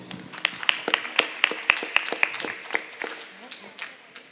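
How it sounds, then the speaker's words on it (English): An audience at a college quiz competition claps in a round of applause, a burst of close, dense hand claps that thins out and fades over a few seconds. "One round of applause, please."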